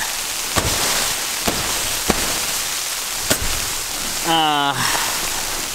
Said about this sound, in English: I have to keep banging off the tent.